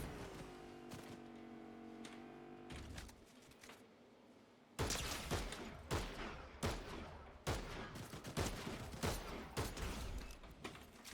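Gunfire in the video game Fortnite: rapid bursts of sharp shots crack out in uneven volleys, loud and close, after a quieter stretch of mechanical game sounds.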